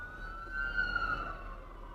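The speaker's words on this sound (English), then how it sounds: "I hear fire trucks or something coming up." An emergency vehicle siren, likely a fire truck or ambulance, wails in a rising and falling tone as it approaches along a highway shoulder, heard from inside a moving car at moderate distance.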